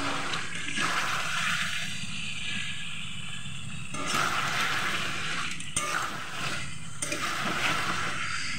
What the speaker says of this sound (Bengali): চিকেনগুলো একটু সেদ্ধ করতে হবে, যার কারণে আমি এর মধ্যে জল দিয়ে দিচ্ছি